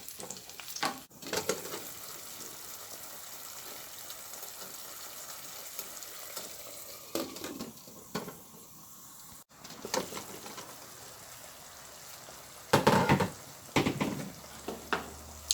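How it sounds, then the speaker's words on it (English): Scotch bonnet and sweet pepper sizzle steadily in a hot pan, a continuous low frying crackle broken by occasional stirring scrapes and louder bursts of spitting near the end. "I'm gonna add some pepper too, scotch bonnet pepper. Let this fry up nicely."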